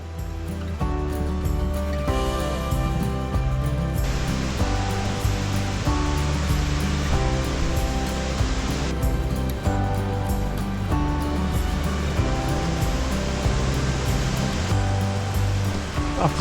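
A waterfall and rushing river near Hallstatt produce a constant, dense roar of water that is loud and unbroken for the whole stretch, with no voices over it.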